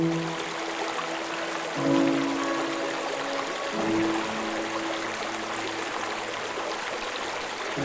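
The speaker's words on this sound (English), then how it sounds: "the streams and waterfalls would provide a relaxing soundscape" Steady rushing water of a New England forest stream and waterfall in a gorge, a continuous close wash with brief louder surges.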